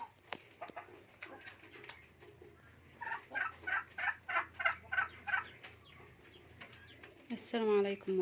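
A turkey with swollen eyes gobbles in a rapid run of throaty, rhythmic calls, then gives a louder final call, with scattered clucks and soft background noise between.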